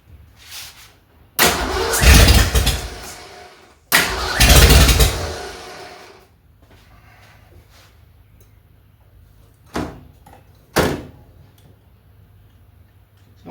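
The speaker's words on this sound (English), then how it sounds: "Give her a little more throttle." A Ford 289 V8 in a 1965 Mustang cranks in two long, loud bursts, then goes quiet apart from two brief sharp knocks near the end.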